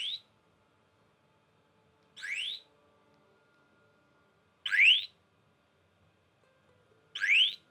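A bicycle alarm gives four loud, rising electronic chirps, each about half a second long, spaced roughly two to three seconds apart over near silence.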